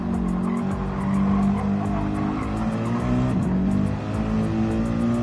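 Gran Turismo-style race cars, a Toyota Supra and a Mercedes-AMG, lapping Laguna Seca in a racing game: loud, steady high-revving engine drones with shifting pitch and brief tire squeal through corners.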